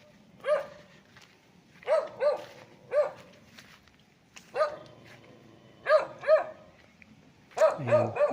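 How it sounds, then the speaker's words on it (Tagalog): A dog at a rural farm lot barks in short sharp bursts, single and paired woofs spaced a second or so apart, fairly close and clear over a quiet background. "May aso."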